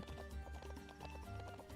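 Horses clip-clopping along with a neigh in the video game The Ranch of Rivershine, rhythmic hoofbeats repeating steadily throughout, fairly quiet, with no talking.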